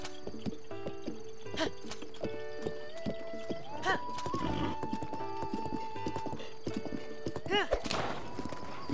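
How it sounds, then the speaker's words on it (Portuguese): Horse clip-clopping and whinnying in the video game Zelda: Breath of the Wild, with steady hoofbeats, bright game music tones and several loud neighs, while someone talks over it. "Vai, vamos de cavalo."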